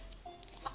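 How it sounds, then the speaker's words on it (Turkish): A chicken in a video game clucks briefly and faintly over low background noise. "Oha tavuk."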